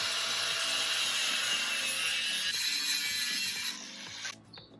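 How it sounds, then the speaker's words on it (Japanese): Unneeded corner sections of a steel side guard for a Nissan NV100 Clipper kei van are cut off with a power tool, giving a continuous harsh, high metallic whine over rhythmic low rasping strokes that fades and stops near the end. "角の部分とかいらない部分は削ぎ落としていきます。"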